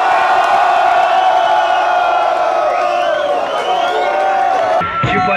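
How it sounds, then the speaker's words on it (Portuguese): A loud, dense crowd at a Brazilian freestyle rap battle cheers, whoops and shouts continuously, with voices blending into a steady roar that briefly dips near the end. "O barulho da plateia é o que move meu coração."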